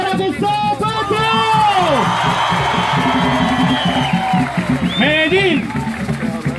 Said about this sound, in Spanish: fuerte el aplauso para Gustavo Petro.